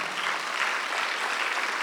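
Steady, dense clapping from a church congregation during a Sunday worship service, a continuous wash of many hands at even loudness with no voices over it.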